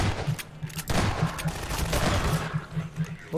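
Dense volleys of video game gunfire crackle in rapid overlapping bursts, loud and close, with no talking over them.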